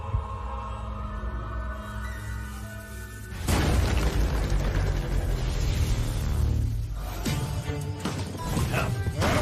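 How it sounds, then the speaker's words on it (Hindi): A heavy, booming explosion bursts in an animated fantasy series, a sudden broadband blast that swells abruptly after a quieter stretch and rumbles on with crashing debris, with no voices in this stretch. "धमाका।"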